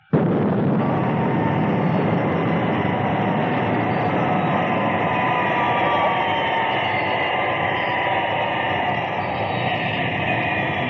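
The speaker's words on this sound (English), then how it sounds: "Will not require runway, coming in vertically." A loud, sustained roaring jet blast from an International Rescue aircraft descending to land vertically, a steady rushing engine roar that begins abruptly and holds for the whole stretch with no voices.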